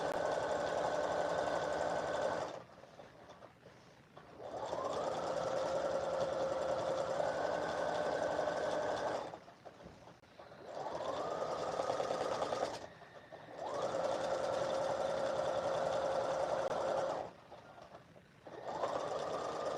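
A sewing machine hemming the bottom of a blouse, a close, steady whirring hum running in long stretches, broken by short pauses where the stitching stops and starts again.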